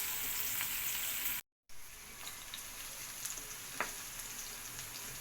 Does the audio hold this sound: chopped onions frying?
yes